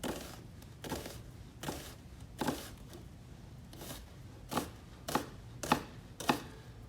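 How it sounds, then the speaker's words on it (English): A kitchen knife slicing down through an onion onto a cutting board, about nine crisp chopping taps spaced unevenly, close and fairly quiet in a calm room. "I'm going to cut slices from top to bottom"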